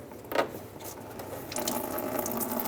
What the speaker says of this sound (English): remove it enough to where coolant starts coming out of here